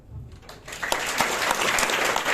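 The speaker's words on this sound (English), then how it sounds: "How many people know to clap?" A brief burst of audience clapping at a panel discussion on the workplace gender gap, rising quickly and staying dense and moderately loud to the end.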